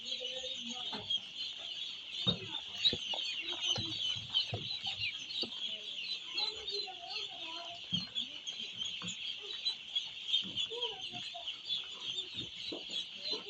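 A flock of about a thousand ducklings on a duck farm, eating and drinking, gives a continuous dense high peeping chorus close by, with scattered soft thumps and shuffles underneath.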